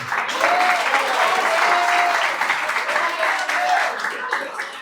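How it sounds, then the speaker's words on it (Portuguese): A church congregation applauding the Lord during a morning service, sustained dense clapping from many hands with voices calling out over it. "Se você concorda, aplausa ao Senhor nessa manhã."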